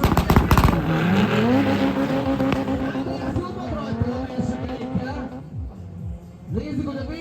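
A Honda Civic 1.4 Turbo and a Mercedes AMG GTR 4.0 V8 biturbo on a quarter-mile drag strip, engines roaring with rising revs and gear changes under loud crowd and commentary noise, with sharp crackles near the start.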